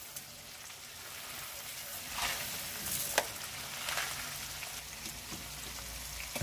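Rice and chicken sizzle steadily in a paella pan at home as they are slowly stirred, a close, even frying crackle broken by a few sharper scrapes and clicks of the spoon.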